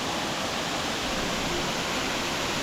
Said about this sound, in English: There's the bad boy. Temesi Waterfall.